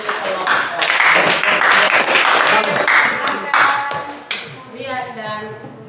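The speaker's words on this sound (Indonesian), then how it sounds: "mari kita berikan tepuk tangan untuk kelompok" Classroom group being applauded during a coaching session: dense clapping fills the first four seconds, then thins out into a few scattered claps as people talk over it.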